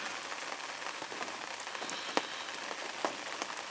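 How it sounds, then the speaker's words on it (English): Steady rain falls on surfaces at a carp fishing lake at Whelford Pools, a dense even patter of drops with a few sharper close taps, with no talking. "now we're just left with this rain"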